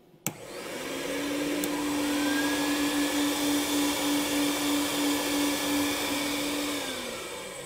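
An ESteam Ninja carpet extractor's two vacuum motors whir up with a click and then roar steadily at high pitch, a constant loud drone that holds without a break.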